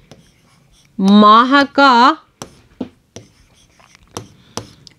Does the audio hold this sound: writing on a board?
yes